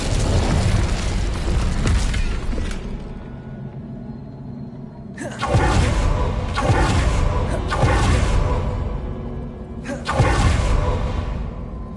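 The Incendio fire spell in Hogwarts Legacy roars as loud whooshing bursts of flame, one fading early, then three more blasts erupting in succession, each rumbling before tapering off.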